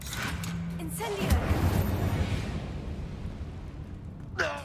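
The Incendio fire spell from Hogwarts Legacy erupts in a rushing, roaring blast that swells and trails off over several seconds, with a voice briefly heard over it.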